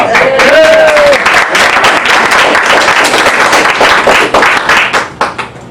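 Audience applause fills a Toastmasters meeting room, dense steady clapping from many hands that tapers into scattered claps near the end, with a brief voice audible at the start.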